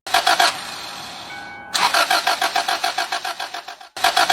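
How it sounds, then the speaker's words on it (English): A car engine cranks repeatedly without firing, the kind of no-start a failing fuel pump relay causes: a rapid rhythmic starter whir in loud bursts, broken by a brief pause and resuming, close and with no voices. "heard the engine crank"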